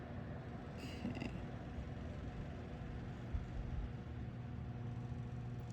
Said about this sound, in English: That sound you're hearing in the background is the fan